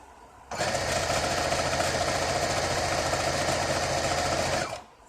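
A sewing machine stitches a pillowcase seam at high speed for several seconds, a loud continuous mechanical whir that starts and stops abruptly.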